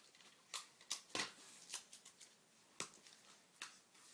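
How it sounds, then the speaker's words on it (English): Tape is pulled and pressed onto a rolled paper gun, giving close, crisp crackling and tearing bursts with sharp snaps in an irregular rhythm. "Tape it together."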